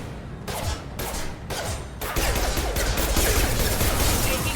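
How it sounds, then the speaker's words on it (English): Gunfire in the video game Mass Effect 2 rattles in loud, dense bursts that start with a few separated volleys and then merge into a continuous barrage of shots and impacts. "Taking fire."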